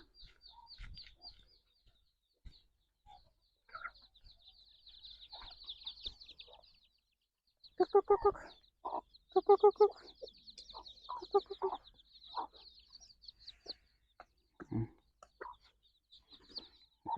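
Chickens on a Thai farmyard cluck in scattered bursts, some loud and close, others softer, over a constant thin high insect-like whine and occasional faint knocks.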